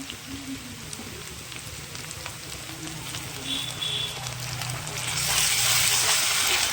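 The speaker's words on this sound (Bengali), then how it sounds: "ভালো করে পেস্টটা পেঁয়াজ দিয়ে কষিয়ে নেব।" Ginger garlic paste fries with onions in a pan, a faint steady sizzle with light crackling that swells louder near the end, heard alone without talk.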